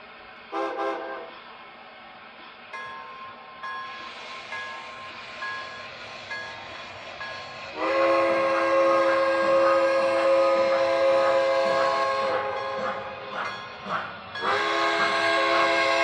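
Model MTH Proto 3 PRR Pennsylvania K4s steam locomotives run with a steady rumbling chuff while a multi-tone whistle sounds repeatedly, long held blasts growing louder partway through, with no talk.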